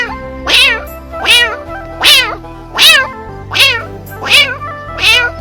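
A boy imitates a tired cat, giving seven drawn-out, wavering meows at an even pace, each rising and then sagging, close and clear with a low hum underneath.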